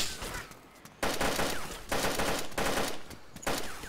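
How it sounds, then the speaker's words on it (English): Gunfire in the DayZ Standalone video game: loud bursts of rapid shots in several long volleys, separated by short quieter gaps, with no talk. "Is that you shooting?"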